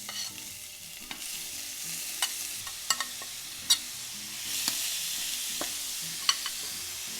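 Onion, green onion and garlic stir-fry in olive oil in a pan, giving a steady soft sizzle broken by scattered scrapes and clicks of stirring.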